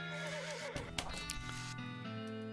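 A horse in the West of Loathing video game neighs, a clear whinny followed by a few clip-clop hoof sounds, close and fairly quiet.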